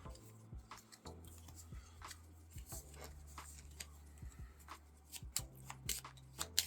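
Cards shuffled into an initiative deck during a tabletop board game, soft irregular riffles and scrapes with small taps at close range, quiet over a low steady hum, no speech.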